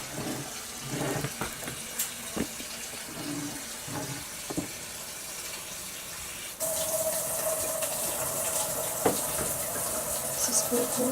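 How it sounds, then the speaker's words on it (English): Water poured into a Hamilton Beach roaster oven, a continuous splashing, gushing stream that grows fuller and slightly louder partway through, with a few clunks of handling. "We're putting a total of 4 quarts of water in"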